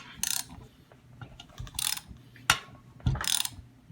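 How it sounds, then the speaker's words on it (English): Metallic ratcheting clicks and knocks as an AK rifle barrel from a Romanian kit is pressed out, coming in several separate bursts with quiet gaps between them, close and fairly faint. "That is the sound of that barrel moving right out."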